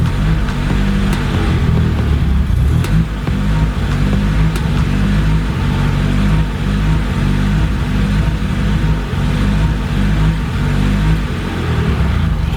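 A Honda Civic's turbocharged D16 engine runs steadily up close after a clean start, a continuous low rumble with slight swells in pitch and no voices.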